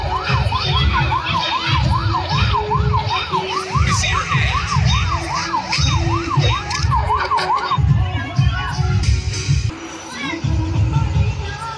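A police siren in the video game Rope Hero Vice Town wails in a steady rising-and-falling pattern, loud and continuous over engine rumble and game noise, then breaks off near the end.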